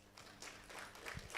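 Scattered claps from a small audience at a university student council election event, faint and sparse, a few separate hand claps building slightly over a second and a half.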